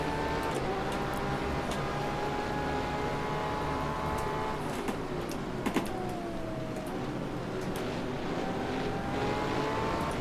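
Race car engines whine in rFactor 2 on the Sebring circuit while chasing a Bentley, with faint, continuous tones that rise and fall through gear changes and braking, quiet and distant in the mix.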